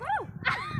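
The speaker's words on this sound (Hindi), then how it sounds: "तो कुत्ते आ रहे तो क्या तुम्हें खा जाए क्या?" Dogs near a village shrine give a short run of close barks and whiny yelps, rising and falling, lasting under a second.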